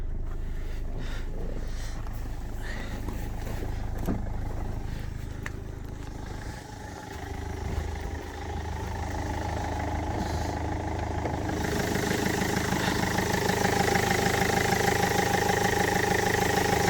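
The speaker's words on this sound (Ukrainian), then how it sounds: "Автомобіль заводиться з півоборота, працює рівно стабільно справно." A Land Rover Freelander engine idles steadily, a low continuous hum with a faint mechanical rattle, heard alone for the whole stretch.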